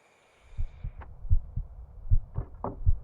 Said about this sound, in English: Getting a little of the heartbeat.